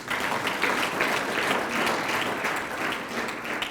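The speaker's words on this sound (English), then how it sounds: "Please give him a round of applause." Steady, dense applause from a large crowd at a university lecture, sustained evenly throughout with no pauses.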